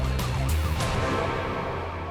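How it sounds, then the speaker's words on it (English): An arriving ambulance sounds its siren nearby, a loud wailing tone over a low engine rumble that fades slightly toward the end, with no talking. "An ambulance has arrived."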